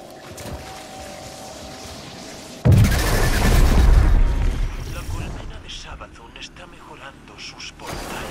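Machine gun fire in Destiny 2, a sudden loud burst of booming shots that rolls on for a few seconds before fading into lighter game sounds.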